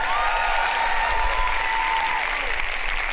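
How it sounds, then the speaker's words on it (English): Audience applause at a convention closing performance, a steady dense wash of clapping from a crowd filling the whole short stretch at even loudness. "Can we have a special round of applause for Dino?"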